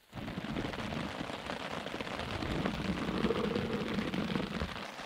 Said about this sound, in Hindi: तो भाई रात के 2 बजे इतनी तेज बारिश होने लग गई है